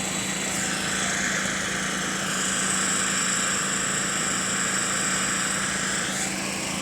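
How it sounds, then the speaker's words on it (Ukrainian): Diesel generators running outside shops, a steady droning rattle with a constant low hum that holds even and unbroken throughout, no voices. "ставлять ці дизель-генератори. Вон вони тарахтять."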